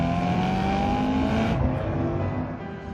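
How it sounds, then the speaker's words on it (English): A BMW M3's 4-liter aluminum V8 roars through a broken-in exhaust, a loud, close, throaty drone that rises in pitch and then drops off as the revs fall. "as the exhaust breaks in, the sound insulation inside it starts to break down, and it gets louder and more powerful over time"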